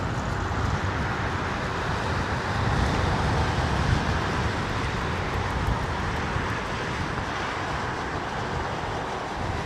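An airplane arriving at London Heathrow Airport gives off a constant loud low roar of jet noise with a broad rumbling rush that barely changes across the span.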